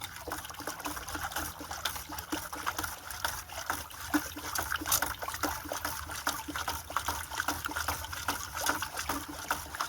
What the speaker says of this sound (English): I'm just mixing out some of it in the water